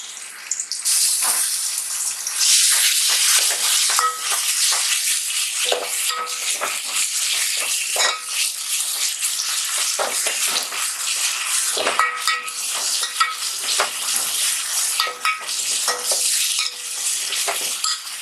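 Ginger, garlic and green chilli paste frying with coconut for mutton dal gosht, a loud continuous hissing sizzle with frequent crackles and occasional stirring scrapes, sustained throughout without speech.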